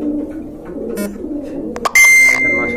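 A pair of satin pigeons coos in low, throaty rolling phrases close by. A bright clattering burst and a thin steady high beep-like tone follow near the end.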